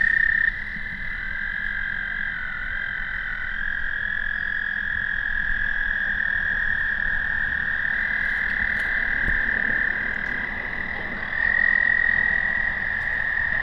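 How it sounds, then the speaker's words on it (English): A small frog in a bog at Bachelor's Grove Cemetery calls with a continuous, high buzzing trill that stays close and loud throughout, with no voices. "There's another little frog right here, just hanging out in the bog."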